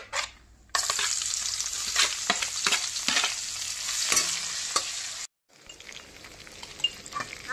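Spice paste, whole cumin and dried chillies fry loudly in hot oil, a dense crackling sizzle broken by scraping stirs, then a brief silence before a quieter sizzle resumes.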